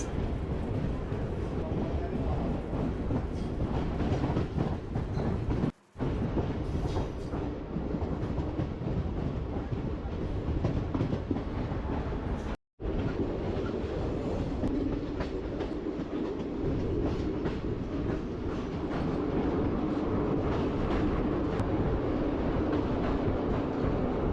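A passenger train on the Bhimavaram to Nagarsol route runs steadily, its loud continuous rumble and wheel clatter filling the whole stretch, broken only by two brief dropouts.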